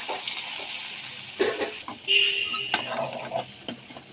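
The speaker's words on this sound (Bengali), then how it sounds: "মশলাটা এর সঙ্গে ভালো করে কষিয়ে নেব" Eggplant sizzles and is stirred in a pan with turmeric, chili and cumin powder and a little water, with scraping spoon strokes and a few sharp clinks against the pan up close.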